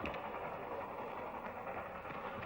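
A train comes around a bend in a period western: a steady, dense rumble holds at an even, fairly loud level throughout, with no voices over it.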